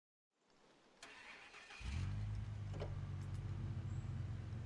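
Scout truck engine in the Snowrunner video game starts and settles into a steady, loud mid-pitched drone that runs continuously after a brief quieter lead-in, with no talking.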